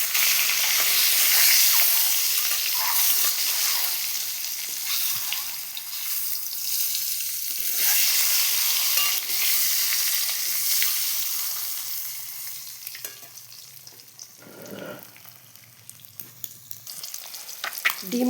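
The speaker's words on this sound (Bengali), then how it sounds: "এবার আমি ডিমগুলো লাল করে ভেজে নেব।" Eggs seasoned with turmeric fry in a pan until browned, a loud, steady sizzle and hiss that gradually thins and crackles more unevenly toward the end, with no talking.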